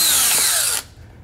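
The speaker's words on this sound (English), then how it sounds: "I'm using power tools" A power drill drives screws into the lever of an interconnect door lock, a loud, close whirring burst that stops abruptly under a second in, leaving a quiet room.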